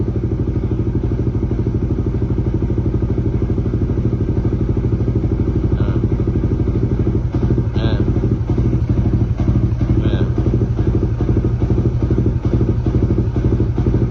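Motorcycle fitted with an Aracer RC Mini X ECU tuned for rumble and backfire, its engine running loud and close with a steady low throbbing rumble, joined by a series of crackling pops and small bangs in the second half.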